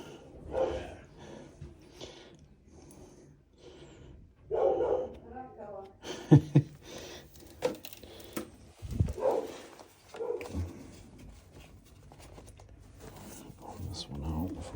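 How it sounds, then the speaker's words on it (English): A dog barks in short bursts from somewhere in a house during a furnace service call on a snowy day, with someone talking over and between the barks. "Doggy doesn't sound like it likes company, does it?"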